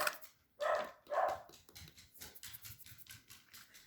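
A few dog barks come from a distance, two louder ones early, then softer yips and patter over a steady background murmur.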